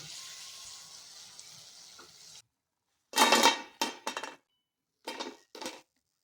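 A crispy fried roti and tomato snack is tipped out and handled in a vessel. A soft rustle gives way to a few short, loud, crackly bursts separated by silence.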